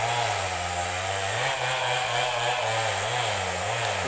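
Chainsaw cutting wood into boards at a community work session building a church: a steady, fairly close engine drone with pitch dips as the blade bites, running continuously without talk.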